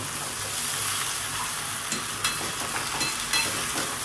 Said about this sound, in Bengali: সব চাউমিনটাই দিয়ে দিলাম এবারে সুন্দর করে আমি নেড়ে দেব